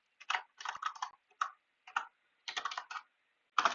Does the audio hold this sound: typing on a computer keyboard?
yes